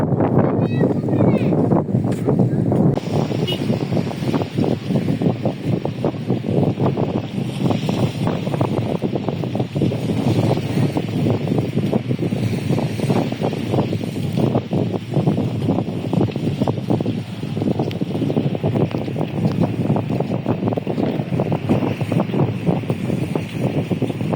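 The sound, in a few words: cool wind blowing at the seaside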